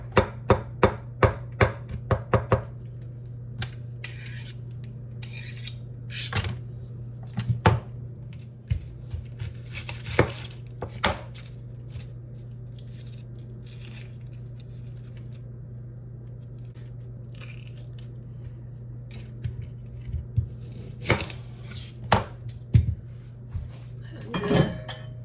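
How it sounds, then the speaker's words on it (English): A knife mincing garlic on a cutting board, with irregular sharp taps and quick bursts of chopping spread across a quiet kitchen under a steady low hum. "Now I'm going to continue to try to mince this garlic"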